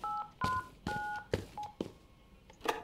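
A telephone number is keyed in within the video game Dr Langeskov, The Tiger, and The Terribly Cursed Emerald: a quick string of about eight crisp dial-tone beeps in an uneven rhythm, close and clear, with no talking.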